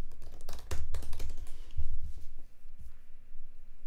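Close, fairly quiet keystrokes clatter on a computer keyboard in quick irregular bursts, with short pauses between runs of typing.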